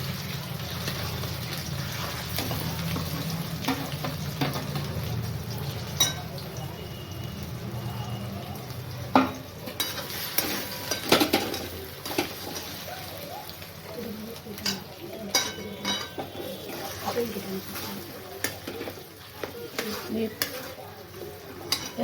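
Mashed potato filling with cumin being stirred in a frying pan for aloo paratha, with soft scraping and clinking of a utensil against the pan over a low background hum, intermittent knocks growing busier toward the end.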